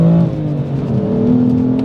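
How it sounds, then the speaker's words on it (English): BMW M3 F80 engine revving through its unusual exhaust setup, a loud, gruff, rising and falling drone heard close up for a couple of seconds, with no talking. "So the engine, while the sound is perhaps a little bit controversial, especially from outside, because of its kind of unusual exhaust setup"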